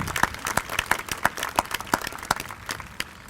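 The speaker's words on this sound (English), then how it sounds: "Let's give them a nice round of applause." A crowd claps in a steady burst of applause at a high school commencement ceremony, sharp overlapping claps filling the space without any talking.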